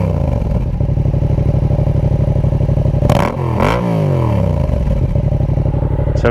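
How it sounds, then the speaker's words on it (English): A Yamaha MT-07 with an SC Project conic exhaust idles steadily up close, then is blipped twice, the revs climbing and dropping sharply before settling back into a loud, even idle with no talking. "Let's give it a rev, shall we?"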